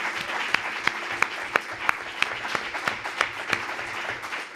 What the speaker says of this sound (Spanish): si os parece, damos el agradecimiento nuevamente con un aplauso a Fernando.